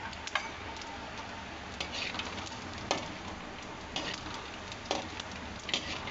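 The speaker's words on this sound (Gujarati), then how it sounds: "ગુલાબી રંગને થાય ને ત્યાં સુધી તળવા પડે, ક્રિસ્પી થવા પડે" Bhatna pakoda frying in hot oil, a continuous close bubbling sizzle with scattered sharp pops and ticks every second or so, no voices.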